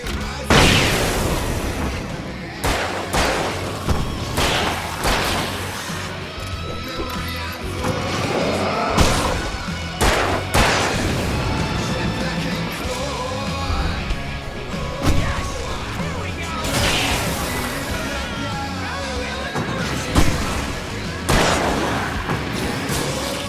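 In the horror action game Alan Wake, gunshots and firework blasts go off in a loud, irregular barrage of sharp cracks and booms, some close and punchy, with crashing debris between bursts.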